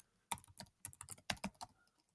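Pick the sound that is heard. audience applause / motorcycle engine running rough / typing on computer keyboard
typing on computer keyboard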